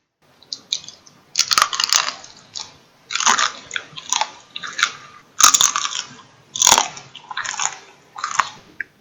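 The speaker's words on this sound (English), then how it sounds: "Before this video starts, listen to this crunch." Onion rings being bitten and chewed up close, about eight crisp, loud crunching bursts in an irregular rhythm separated by short quiet gaps, with no talking.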